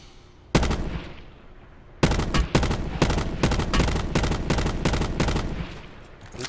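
Rapid bursts of automatic gunfire from a gun in Call of Duty Black Ops 4's Blackout beta. A brief shot opens, then after a pause comes a loud, sustained stream of closely spaced shots, with no talking.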